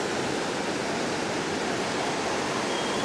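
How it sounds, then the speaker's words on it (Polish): A river swollen and rushing after rain, a steady broadband roar of fast water that stays loud and unbroken throughout, close by with no voices. "chwilę popadało, jak się rzeka wzmogła"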